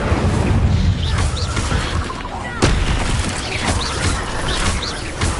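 The Incendio fire spell going off in Hogwarts Legacy, heard as a dense, loud burst of crackling, roaring blasts with sharp impacts layered over continuous game noise.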